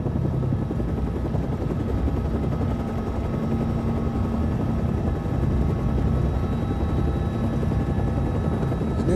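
Helicopter in flight, a continuous loud rotor and engine drone heard from inside the cabin without pause.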